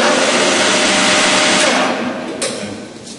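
An engine lathe spindle runs in reverse with a dense, loud, steady mechanical whir. The whir then eases and fades in the final second.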